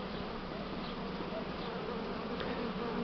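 A dense, continuous buzz of many honey bees swarming close by, steady and unbroken throughout.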